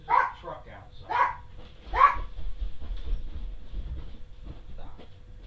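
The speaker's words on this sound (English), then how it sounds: "Now my dog's gonna bark and carry on because he hears a car outside." A dog barks in sharp bursts, about three loud barks in quick succession followed by a fainter yip, reacting to a truck outside a house; a voice is heard talking around and between the barks.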